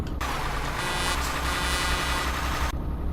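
Horn of a Kenworth K100 truck in Euro Truck Simulator 2, a single sustained blast lasting about two and a half seconds over a low idling diesel engine rumble, thin and not very loud.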